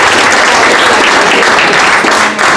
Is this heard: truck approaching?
no